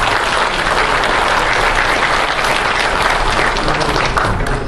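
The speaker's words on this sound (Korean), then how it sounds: "이제 많은 박수 부탁드립니다." Sustained, loud audience applause as guests are introduced at a Korean ceremony, dense clapping throughout without a break.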